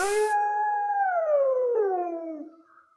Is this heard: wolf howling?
yes